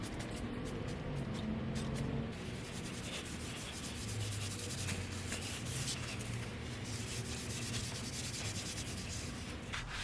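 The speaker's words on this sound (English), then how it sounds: "I'm going to be scrubbing it with a steel woolly as well." Fine zero-grade steel wool scrubs caked-on grime from a BMW F80 M3 wheel, giving a steady close-up rasping rub that runs continuously with no talk over it.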